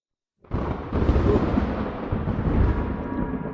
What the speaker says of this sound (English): Good old thunder.